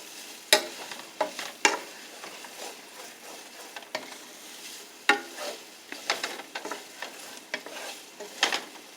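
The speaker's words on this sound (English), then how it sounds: "I like them to be sauteed in the skillet first" Smoked sausage sautéing in a skillet over medium heat, a quiet steady sizzle broken by sharp clacks and scrapes of stirring at irregular intervals.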